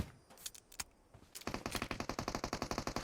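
PUBG Mobile gunfire: a few scattered single shots, then a rapid automatic burst of evenly spaced, punchy cracks that keeps firing to the end, loud and close, with no voices.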